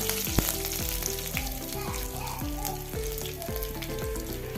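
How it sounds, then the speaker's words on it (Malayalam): Dried red chillies, curry leaves and cumin sizzle and fry in hot oil, with a steady, close crackle that carries on throughout and no talking. "രണ്ട് വറ്റൽ മുളക് ചേർത്ത് കൊടുക്കുക കുറച്ച് കരിവേപ്പില ചേർത്ത് കൊടുക്കുക"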